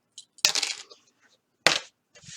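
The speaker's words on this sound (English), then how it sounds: "I'm going to remove these clips." Sewing clips are pulled off the bottom of a stitched zipper on a fabric pocket, making a few sharp, close clicks and small rattles with pauses between them.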